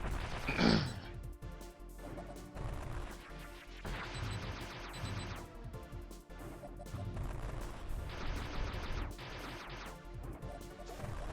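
Gunshots and explosions from a video game, a continuous dense barrage of crashes and bangs filling the whole stretch at steady loudness.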